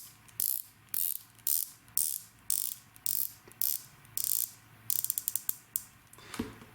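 A green ceramic unidirectional bezel on a Rolex Submariner 126610LV ratchets in short, crisp bursts of clicks, about a dozen turns at a steady pace and then a quicker run of sharp single clicks, close and clear.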